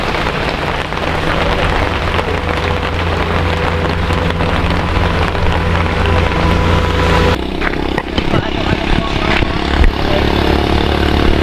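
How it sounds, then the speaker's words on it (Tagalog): Heavy rain pours steadily onto a surface, heard from under a shelter while travelling from Calauag to Tabugon in the Philippines, a loud dense hiss that continues throughout with some scattered louder drops near the end. "Lumakas na naman ang ulan."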